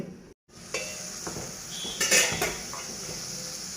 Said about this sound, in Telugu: ఇప్పుడు మూత పెట్టేద్దాం.